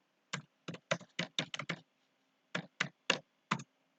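Keys on a computer keyboard are tapped in a quick burst of about eight crisp clicks, then a short pause and four more spaced presses, close and clear in a quiet room.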